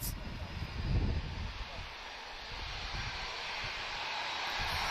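A broad, steady roar of an aircraft engine at Lisbon Airport, loud and sustained, with wind noise over the microphone.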